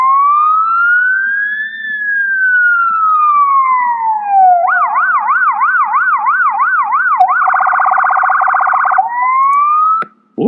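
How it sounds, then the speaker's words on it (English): An ambulance siren sound effect in a vintage radio comedy wails in long rising and falling sweeps, then switches to fast warbling yelps, loud and close, before cutting off abruptly. "call an ambulance."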